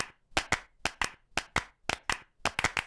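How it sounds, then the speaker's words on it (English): Cartoon children clap together in a rhythmic pattern, crisp sharp claps in pairs and short bursts with pauses between, loud and close with no talk. "Madam Gazelle has made the clapping into music."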